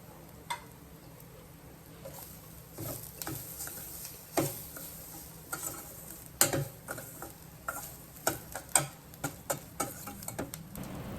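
Semolina and grated coconut dry-roast in a pan for Chettinad ukkarai, a faint, quiet bed of irregular ticks and light scraping taps as the mixture is stirred.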